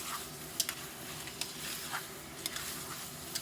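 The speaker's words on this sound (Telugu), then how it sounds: "ఇప్పుడు ఒకసారి ఇదంతా బాగా కలిపేసి మూత పెట్టి ఆయిల్లో మగ్గనిద్దాము" Chicken pieces cooking in oil in a pressure cooker, stirred with a spoon: a steady soft sizzle runs throughout, broken by a few sharp scraping clinks of the utensil against the pot.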